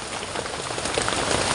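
Heavy rain pours onto a camp during a rainy hunting and fishing trip, a dense, continuous hiss of drops beating on surfaces, close and loud with no voices.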